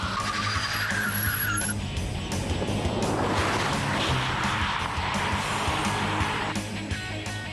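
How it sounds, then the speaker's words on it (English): Race cars, one ethanol-fuelled and one petrol, blast down a tarmac strip with loud screeching tires over roaring engines, a continuous close burst of squealing rubber and engine noise lasting several seconds. "With a screech of burning rubber, our Nordic gladiators show their motors no mercy as they blast down the tarmac"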